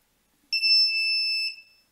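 A single steady beep from a small active buzzer on 5 volts, wired to an Arduino, high-pitched and constant for about a second, then cutting off cleanly in an otherwise quiet room.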